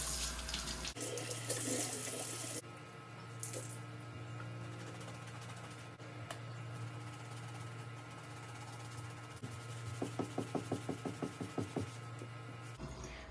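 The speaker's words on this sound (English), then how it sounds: "I'm rinsing the sponge in between use so I don't get the water dirty." Water runs and splashes as a sponge is rinsed while cleaning leather boots, ending with a quick series of rhythmic squelching squeezes close by.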